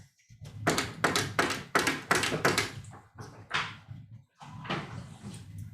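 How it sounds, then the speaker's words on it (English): A door is struck hard again and again by someone knocking strongly, a series of loud heavy thumps in quick bursts with short pauses between them, close by and alone. "I hear someone knocking at our door really strongly"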